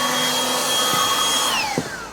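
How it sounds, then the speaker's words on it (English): A Milwaukee M12 mini leaf blower runs with a steady whine and airy rush, then its pitch slides down as it winds off near the end. "the M12 mini leaf blower indicates that the install has completed"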